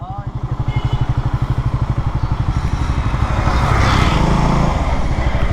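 A motorcycle on the road near a wedding gathering in Bangladesh, its engine chugging in a fast regular pulse close by that grows slightly louder, with people talking over it.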